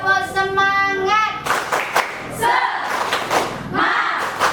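A school class claps in a quick rhythmic pattern led by a teacher, sharp hand claps repeating in bursts with chanting voices and a sung tone at the start.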